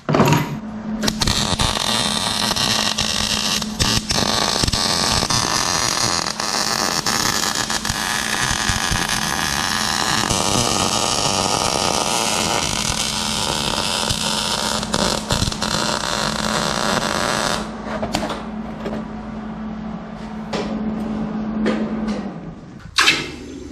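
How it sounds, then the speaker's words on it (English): Welding the inside edge of a steel PCM mounting bracket for an LS engine swap, a loud continuous crackling hiss that runs steadily for most of the stretch, with brief breaks near the start and a stop near the end. "I'll weld that inside edge, make it strong."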